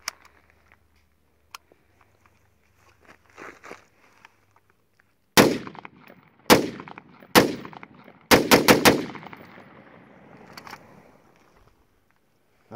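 Gunfire from a custom-built Honey Badger PDW pistol fitted with an SBPDW brace: after faint handling, a few loud single shots ring out, then a rapid close burst of several sharp reports with ringing decay, no talking.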